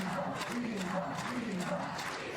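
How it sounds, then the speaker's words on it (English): A crowd at a women's recurve archery gold medal final in Paris cheers and chants steadily in the distance, a rhythmic wash of voices with a commentator talking over it. "Lisa Barbelin of France with the whole crowd behind her"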